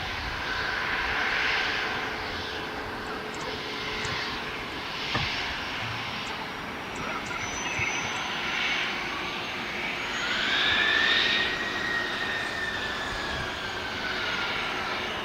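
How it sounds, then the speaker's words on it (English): A Bombardier Global Express business jet at LAX produces a sustained, loud jet-engine roar with rising and falling whine as it passes, with no talking. "These Global Expresses are an absolute great show to listen to."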